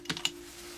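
Two crisp key presses on an old KeyTronic keyboard, close and distinct, a short gap apart, over a faint steady electrical hum.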